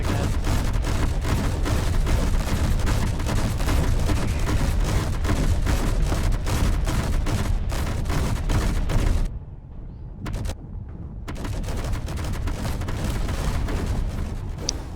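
Weapons fire rattles through a space combat video game in dense, rapid, continuous bursts. It stops briefly for a short quiet gap near the end, then resumes just as heavily.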